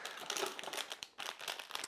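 Plastic bags crinkle and rustle in rapid bursts while an Asus Z270 TUF Mark 1 Sabertooth motherboard is unboxed, close and fairly quiet, with a brief pause near the middle.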